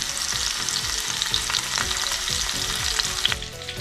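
Varal fish frying in coconut oil with curry leaves gives a dense, close crackling sizzle, with spattering pops and occasional stirring scrapes throughout and no talking.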